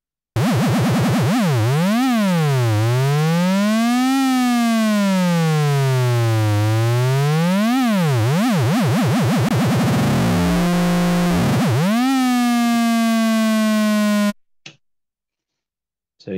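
A Moog Model D synthesizer plays a loud tone with heavy modulation depth, swooping up and down in wide siren-like arcs, then warbling rapidly before cutting off abruptly.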